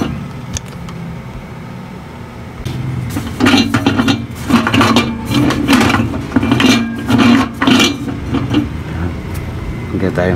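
A plate is set down during work on a GE microwave that has no power, giving a few close clinks and knocks against the dish, while people talk throughout.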